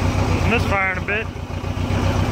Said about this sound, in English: Misfiring a bit.